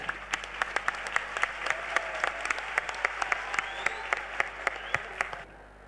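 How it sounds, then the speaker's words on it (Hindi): An audience gives loud, sustained applause to welcome Guruji at the Shri Kalki Mahotsav festival, a thick wash of clapping with crisp individual claps popping through close by before it stops abruptly near the end. "जोरदार तालियों के साथ गुरुजी का स्वागत कीजिए।"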